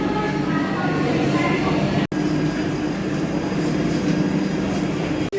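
Trains rumble steadily through a railway station platform, a continuous loud background of rolling rail noise and station bustle with voices mixed in, broken by two brief dropouts.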